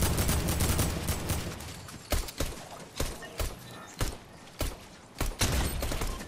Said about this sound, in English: Shot in the air.